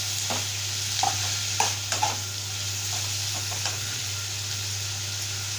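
Tomatoes drop into a pan of mushroom curry, giving a steady frying sizzle with stirring clatter and a few soft knocks, close and fairly quiet throughout.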